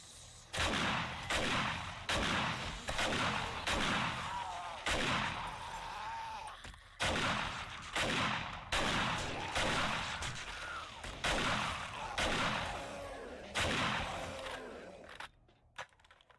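Shotgun blasts from the zombie survival game 7 Days to Die, about a dozen loud booming shots fired in a steady rhythm roughly one per second, each with a sharp onset and brief decay, with no talking.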